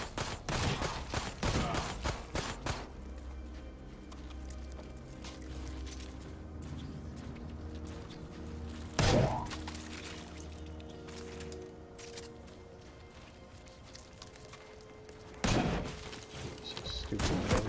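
Sniper rifle shots ring out in the sci-fi shooter Memories of Mars, with sharp, loud cracks at the start and two more isolated reports later, over steady game ambience.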